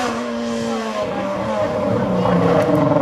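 A race car powers up a hill climb course near Quettreville, its engine a loud, steady drone that shifts pitch as the driver works through the gears, passing fairly close with a hint of tire noise.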